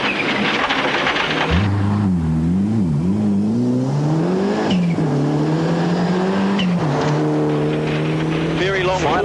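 A rally car at full commitment on a gravel special stage in New Zealand, its engine note rising and falling loudly through gear changes under a voice reading pace notes, getting harder to control.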